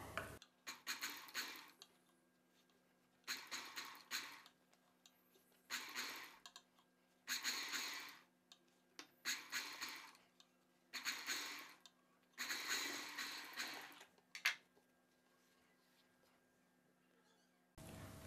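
Sewing machine stitching piping onto a blouse neckline, running in several separate bursts of rapid mechanical whirring with quiet pauses between, close and clear with a faint steady hum underneath.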